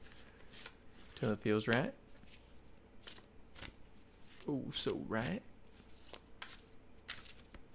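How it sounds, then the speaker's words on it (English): A deck of tarot-style cards being riffled and shuffled close by in two distinct bursts, crisp rapid flutters separated by quieter handling clicks while a person talks softly. "So now let's shuffle again a little bit"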